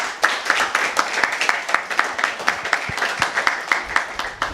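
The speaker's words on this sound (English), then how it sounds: "Can we get a hand clap for that?" An audience at a lecture on Black education claps their hands in a steady burst of applause, crisp overlapping claps sounding close and fairly loud throughout, with no talk over them.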